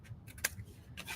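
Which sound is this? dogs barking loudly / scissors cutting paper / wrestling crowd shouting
scissors cutting paper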